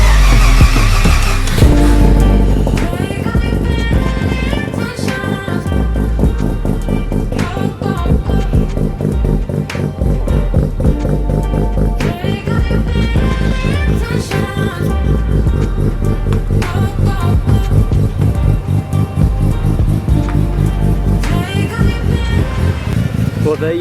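A Mazda RX-7 FD with new wheels reversing out of a garage, its rotary engine a loud, steady rumble with blips of revving that run continuously for over twenty seconds.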